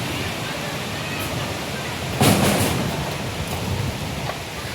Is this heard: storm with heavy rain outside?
yes